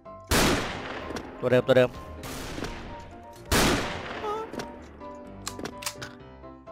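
Barrett M82 sniper rifle shots in a shooting video game, two loud, sharp blasts a few seconds apart with mechanical clatter between them, under a brief spoken remark.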